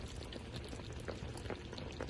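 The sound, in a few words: Iraqi dolma broth boiling in a pot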